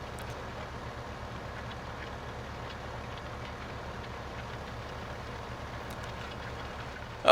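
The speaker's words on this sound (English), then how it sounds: "Tractor's probably just a little underpowered here for this cultivator." Small tractor pulling a cultivator in Farming Simulator 15, engine droning at a steady, slightly strained level throughout, fairly loud and continuous, with no voices.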